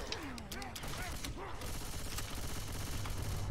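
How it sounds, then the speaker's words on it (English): Rapid gunfire rattles through a shooter game in bursts over a busy mix of game effects and voices, with a denser stretch of continuous firing toward the end. "I keep fucking shooting you"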